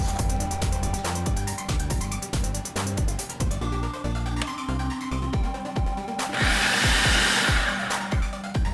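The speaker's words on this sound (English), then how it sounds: "And then after that, you can mix the butter." Electric mixer working butter into scone dough, a loud motor whir broken by repeated thumping as the beaters hit the bowl, ending in a harsher burst of noise.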